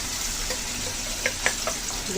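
Koi fish going into a hot pan of well-fried masala, with a steady close sizzle and a few soft splashes and pops as the pieces land.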